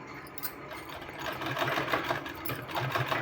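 Sewing machine stitching along a seam while making a new neckline design, a steady mechanical whir with a soft rhythmic clatter throughout, moderately close and growing slightly louder toward the end.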